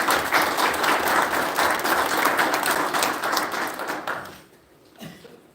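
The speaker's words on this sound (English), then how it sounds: "please join me in thanking them with our applause" Audience members at a town council meeting clap in a loud, dense burst of applause that thins out and fades after about four seconds, leaving a few faint scattered sounds.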